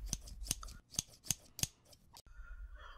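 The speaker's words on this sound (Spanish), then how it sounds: "Buscó unas tijeras y con mucho cuidado le cortó la panza al lobo" Scissors snip repeatedly, about six sharp, close cuts in a quick, even rhythm, followed by a soft rustle and quiet background.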